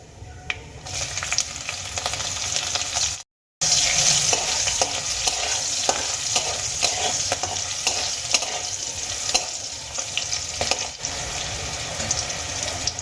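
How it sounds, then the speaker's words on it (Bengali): Slit green chilies and nigella seeds frying in oil, a loud continuous crackling sizzle with spoon stirring, broken by a brief silent cut. "চেরা কাঁচা লঙ্কা আর কালো জিরে আমি খুব ভালো করে ভেজে নিয়েছি"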